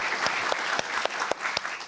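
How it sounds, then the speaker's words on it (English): A television talk show studio audience applauds, with loud clapping and sharp, distinct claps standing out at a roughly regular rhythm throughout. "Clap, clap, clap."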